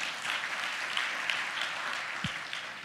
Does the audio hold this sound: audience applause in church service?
yes